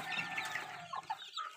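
Chickens and newly hatched chicks on a farm give soft, brief clucks and peeps. The calls come close together in a quiet, close-up patch with no talking.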